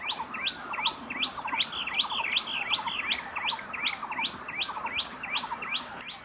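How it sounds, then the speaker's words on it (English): A common tailorbird calling in open pasture below a lodge in Bhutan, repeating a sharp, rapid chirp many times in an even rhythm, clear and fairly near over faint background noise. "with our first common tailor bird."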